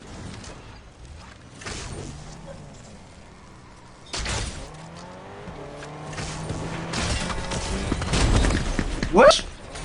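Engines hum and tires scrape as cars drive through a noisy Fortnite match, the vehicle sound building toward a loud burst near the end, with French-speaking voices chatting over it.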